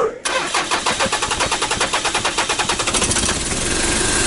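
A cold diesel truck engine cranks in a fast, rhythmic chugging and then catches, settling into a loud, steady rough idle, close by with no talk over it.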